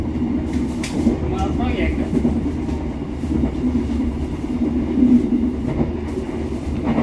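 Indonesian KRL Commuterline electric commuter train running as it nears Cicalengka station, a steady low rumble of the carriages with faint wheel clatter, heard from inside the car, continuous and even throughout.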